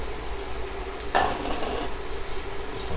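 Shallots and leeks sizzle in a hot pan as they are stirred in for a seafood bucatini sauce. The sizzle is a steady close hiss, with one brief scraping stir near the middle.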